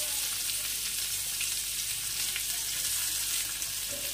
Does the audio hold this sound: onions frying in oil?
yes